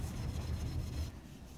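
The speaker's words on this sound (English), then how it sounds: "now I'm going to go ahead and lightly sand the back of this first" Sandpaper lightly rubbing across the back of a steel drawknife blade during hand sharpening, a steady close rasping scrape with a dull low rumble, continuous and alone without speech.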